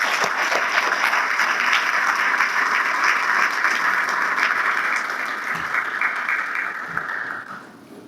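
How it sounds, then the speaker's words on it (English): Audience applause at a scholarship gala, a steady wash of many hands clapping at moderate volume that holds for several seconds, then thins and fades toward the end. "give yourselves a round of applause for just being here"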